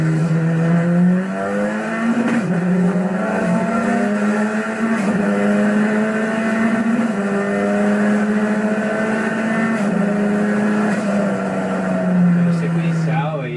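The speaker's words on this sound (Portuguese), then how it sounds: "É o próprio MR18 número 4 com um motor Audi Turbo." Turbocharged Audi engine in the MR18 number 4 racing prototype with sequential gearbox, a loud continuous engine drone with steady harmonics and slight pitch shifts as it revs, close by throughout.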